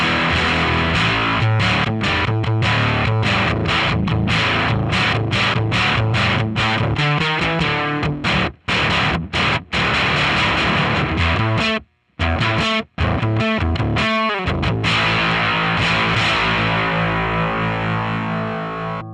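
Electric guitar through a Fractal processor with a distortion effect set neutral: dense, saturated chugging chords and palm-muted riffs played continuously with brief stops, loud and close, no speech.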